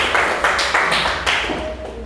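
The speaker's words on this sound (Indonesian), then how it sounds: "Kita berikan tepuk tangan kepada kelompok 1" A classroom group claps in several short, even bursts for group 1 before its presentation, a brisk patter of hands close by with no talking over it.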